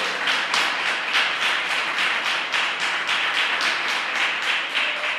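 Church congregation applauding during a sermon, a dense, steady roar of many hands clapping with a faint pulsing rhythm, loud and close, with no voices over it.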